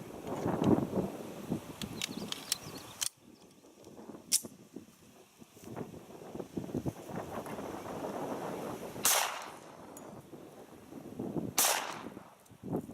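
A rifle fires at small exploding targets outdoors, giving four sharp, widely spaced cracks with quieter background noise and faint rustling between them.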